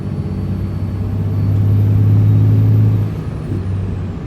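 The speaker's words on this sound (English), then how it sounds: "So we're listening for tire noise. On the highway you do get a little bit of tire noise" Highway tire noise from Dick Cepek Extreme Country 285/70-17 tires on a 2008 Dodge Dually Cummins, a steady low road roar and hum that swells slightly midway, with no talking.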